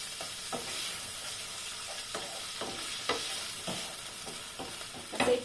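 Sliced carrots stir-fry in a hot pan for pancit, a steady soft sizzle broken by repeated scraping stirs, with a louder clatter of the utensil near the end.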